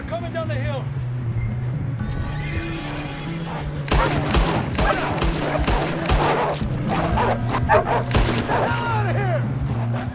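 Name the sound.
wolves attacking amid gunfire in video game Red Dead Redemption 2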